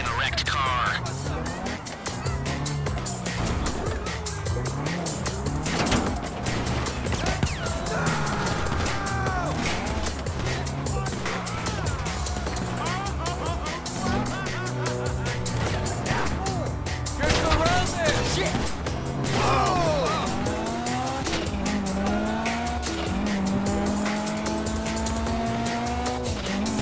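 Car driven in GTA 5 Online during the first Fleeca heist, engine drone running steadily throughout with repeated tire squeals and skids, loud and close, with speech over it at times.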